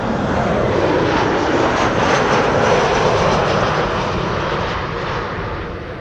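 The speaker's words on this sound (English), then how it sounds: "KLM flight 1420 arriving from Nantes in La Douce, France" A jet airliner arrives at Amsterdam Schiphol Airport, a loud rushing engine roar close by that holds steady and then begins fading as it passes, with no voices.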